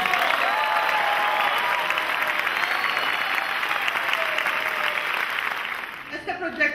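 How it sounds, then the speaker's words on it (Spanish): Sustained audience applause fills the space, a dense wash of many hands clapping, with voices calling out beneath it before it fades near the end. "también pido un aplauso muy especial"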